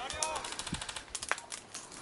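Video game gunfire aimed at a respawn point, heard as scattered sharp shots and clicks spread through the clip, fairly quiet under game ambience with a voice faintly present.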